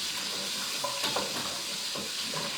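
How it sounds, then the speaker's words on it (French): Onions going into a hot pan, with a steady bright sizzle throughout and a few faint clinks and stirring knocks near the middle and end, close and without talk. "tu peux mettre les oignons"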